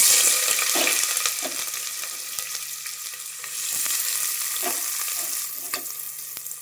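Onions and green chillies sauté in ghee with cinnamon, cloves and cardamom in a home kitchen pan, giving a steady close sizzle broken by a few soft clinks of stirring.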